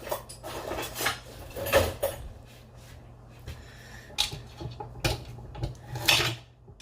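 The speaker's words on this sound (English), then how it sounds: "Let me switch knives." Metal kitchen knives clink and scrape against a cutting board and dishes while carrots are being cut up for curry goat, a series of close, sharp clatters with no talking.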